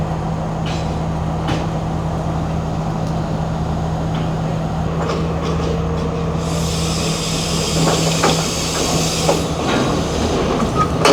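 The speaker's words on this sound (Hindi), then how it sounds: "तकरीबन 5 मिनट इंतज़ार के बाद सामने से ट्रेन आई" A train arrives and passes on a Sri Lankan railway line, a steady near rumble with low hum, building into a brighter rushing clatter of wheels over the last few seconds.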